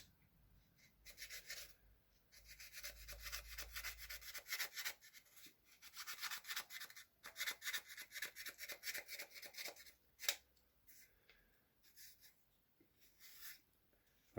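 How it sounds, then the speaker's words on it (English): A blade slowly bevels the edge of a simple barricade piece, giving close, dry scraping and rubbing strokes in uneven bursts with brief pauses between passes. "we're just going to slowly bevel the edge"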